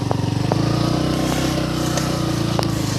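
A motorcycle engine runs steadily on a village road in rural Assam, a close, continuous throbbing drone with a few faint clicks and no speech over it.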